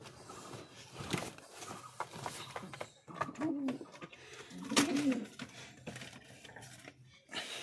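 Lotan pigeons coo in soft repeated bursts close by, mixed with rustling and handling noises, with no talk.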